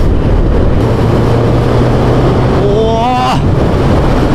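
A new Suzuki Hayabusa motorcycle accelerating on the road: steady loud wind rush with a low engine drone, then a rising whine sweeping upward near the end as it gains speed, heard close from the rider.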